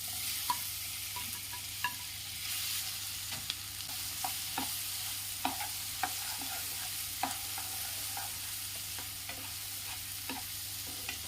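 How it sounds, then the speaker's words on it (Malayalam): Sliced ripe plantain (ethappazham) sautéing in a pan for kaipola, a continuous soft sizzle with regular light scrapes and taps of a spatula stirring, close and steady with no talking. "ഏത്തപ്പഴം നല്ലതുപോലെ വഴറ്റിയെടുക്കണം."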